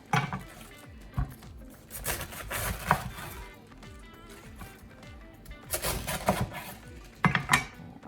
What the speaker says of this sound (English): So I'm going to start by cutting it into quarters